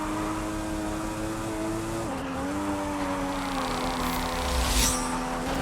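A 400 BHP Toyota AE86 rally raid car drifting in Forza Horizon 5, its engine holding a steady droning note that dips and climbs again, with a brief tire scrub late on, continuous and fairly close.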